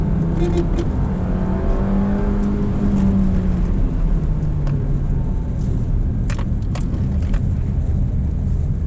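A 2023 Suzuki Dzire engine hums and drones from inside the cabin, its pitch sliding down then climbing as it downshifts to second gear, with faint clicks and rattles.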